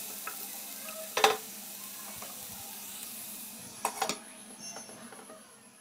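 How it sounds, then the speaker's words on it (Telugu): Mushrooms fry in a covered pan over a low flame with a soft, steady sizzle, broken by two brief clinks of the lid or pan. No one speaks. "ఇప్పుడు స్టవ్ని లో ఫ్లేమ్లో పెట్టుకొని లిడ్ పెట్టుకొని ఒక 2 to 3 minutes అలా ఉంచేయండి మష్రూమ్స్ ఫ్రై అయ్యేదాకా."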